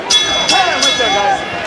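A boxing ring bell rings three quick clangs at a professional bout between Danny Garcia and Erislandy Lara, clear and bright over an arena crowd with voices murmuring underneath.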